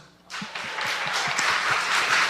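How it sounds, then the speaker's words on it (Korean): A church congregation bursts into applause after a brief quiet, many hands clapping together in a full, sustained round that grows slightly stronger toward the end. "하나님께 박수."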